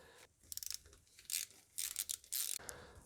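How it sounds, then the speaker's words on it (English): A 5mm hex tool loosening the fuel rail bolts on an Audi A6 1.8T engine: quiet, close bursts of rapid ratchet clicks and metallic scraping, separated by short pauses. "With a 5mm hex, let's remove as well this fuel rail"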